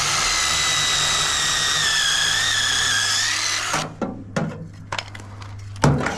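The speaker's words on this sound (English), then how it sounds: "Put the hole right in the middle of them dots." A power drill bores a hole through a metal downspout pipe for a mounting strap, running steadily at high speed for nearly four seconds before stopping, followed by a few sharp knocks and clatters.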